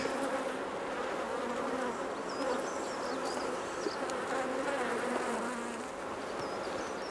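Steady, dense buzzing of honey bees inside a hive during a Bailey comb change, a continuous close drone with no voices.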